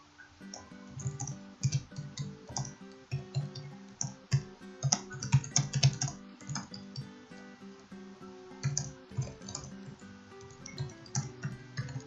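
Steady clicking keystrokes on a computer keyboard while entering a line of VBA macro code, a quick uneven rhythm of close, fairly soft taps with no talk.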